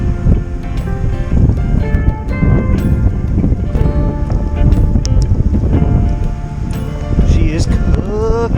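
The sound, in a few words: strong wind outdoors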